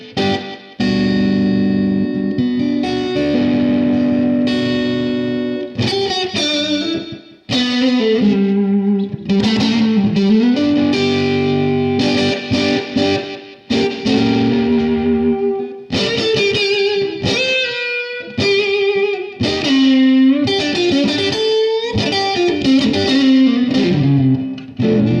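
Electric guitar played through a Dynacord Echocord Super S65 tape echo, notes and chords smearing into warm, slightly distorted repeats that trail under each phrase, loud and continuous with no talking.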